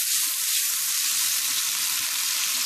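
Bacon spits and crackles on high heat in a wok, a steady close-up sizzle that holds evenly throughout with no talking.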